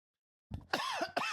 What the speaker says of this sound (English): I cannot shake this dang cough